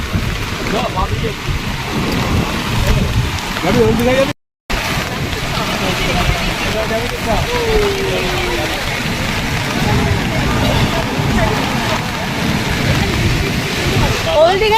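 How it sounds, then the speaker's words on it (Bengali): Rain falls on the sea beach at New Digha, a constant broad hiss heard from under an umbrella, with people talking over it and a brief dropout partway through. "সমুদ্র সৈকতে এসছি সাথে বৃষ্টিও পড়ছে"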